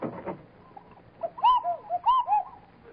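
A cuckoo-style doorbell chime at a club entrance in a 1951 old-time radio show, a short run of soft two-note coo calls repeated several times, clear and fairly close after a brief rustle.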